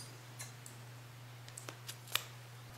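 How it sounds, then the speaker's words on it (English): Scissors snip through crochet yarn, a few faint, quick clicking cuts over a low steady hum, close and quiet with no talking. "Then I'll cut this yarn."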